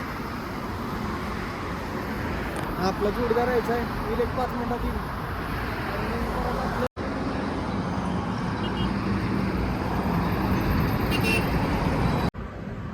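Traffic runs along a highway beside a roadside hotel, a steady roar of passing vehicles with a distant horn, while someone talks over it nearby.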